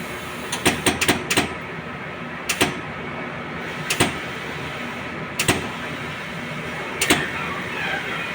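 A Homer sublimation printer's head carriage runs its auto clean cycle, giving sharp mechanical clicks and clacks in small clusters and single hits, separated by pauses over a low steady hum.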